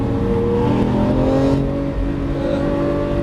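A Lamborghini Aventador LP700-4 accelerating on a race track, its engine droning loud and close with rising pitch, with no talk heard.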